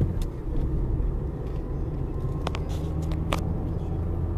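A car travelling along Carretera Masaya in Nicaragua, with steady low road rumble and engine noise throughout and a few brief brighter passing sounds near the middle.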